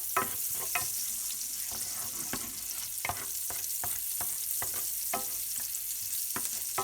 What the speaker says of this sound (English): So now it's time to add about 2 cloves of garlic. We're gonna saute this a little bit.